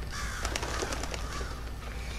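An outdoor crow caws a few times in quick succession, fairly clear over a steady low background hum, with no talking.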